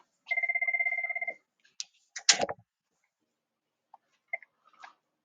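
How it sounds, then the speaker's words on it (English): A telephone rings with an incoming call: a single short burst of rapid electronic trilling, followed by a loud clatter as the handset is picked up and then a few faint clicks in a quiet room. "Oh gosh, got a phone call."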